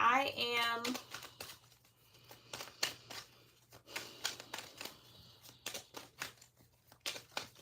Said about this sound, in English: Let's just start shuffling